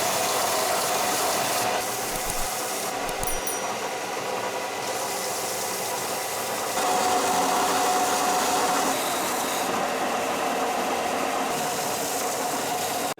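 A power tool cuts a flat stick-bait lure shape out of wood, a steady loud mechanical whirr and rattle running continuously with slight shifts in pitch and intensity.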